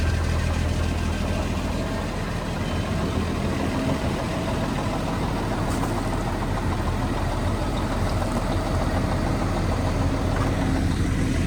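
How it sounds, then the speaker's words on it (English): A farm truck's engine idles steadily at close range, a continuous low rumble with a faint knocking throb that holds unchanged for the whole stretch, with no talk over it. "So we'll start the truck"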